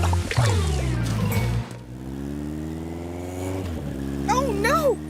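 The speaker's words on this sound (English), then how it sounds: "Let's see if the mayor's motorcycle will still work with an engine full of mud." A cartoon motorcycle with its engine clogged with mud runs with a low, labored droning hum and a sputtering drop partway through, then revs back up while children's voices chatter over it.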